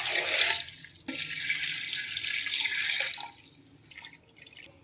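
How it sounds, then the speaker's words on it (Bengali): Tap water gushing into a cooking pot as mixed whole vegetables are set to boil for a Bengali festival dish, a loud steady splashing stream that breaks off briefly, resumes, then thins toward the end. "অথচ আমি 6 গ্লাস মতো জল দিয়ে দিলাম"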